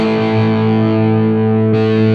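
Fractal guitar processor on its lead channel with drive and extra gain boost, a sustained distorted electric guitar chord ringing loud and steady, briefly re-struck near the end, no voices.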